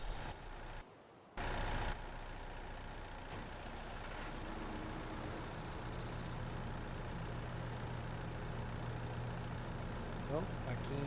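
A tractor engine in the video game Farming Simulator 25, a low steady rumble that idles under the player's talk, with a brief cut near the start.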